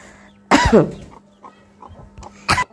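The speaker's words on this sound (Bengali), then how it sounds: "আমার ঠান্ডা লাগছে তো এই কারণে কাশি পায়।" A person with a cold coughing: one harsh, close cough burst, a softer throat rasp, then another short cough, with faint chicken clucks and quiet room sounds between.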